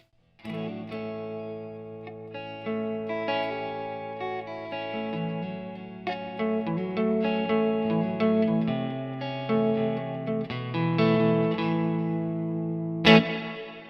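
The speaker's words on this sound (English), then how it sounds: "I think it's like a hall reverb or something they're simulating." Electric guitar through a Fender '68 Custom Vibro Champ Reverb amp, phrases ringing out through a spacious hall-like reverb, notes blurring into a wide wash of ambience, ending with a sharp pick attack.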